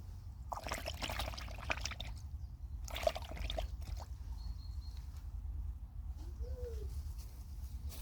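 Garlic cloves for planting are tipped into a water solution, giving two short bursts of pouring and splashing against a steady low background hum, with no talking.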